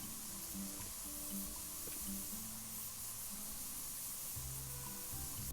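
Continuous hiss of spray paint being applied to a car's undercarriage in a painting simulator game, a soft steady spray with faint background tones beneath it.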